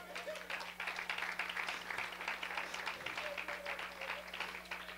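A church congregation applauds during a prayer service, a steady, moderately loud wash of clapping that holds for the whole stretch over a low constant hum, with some voices mixed in.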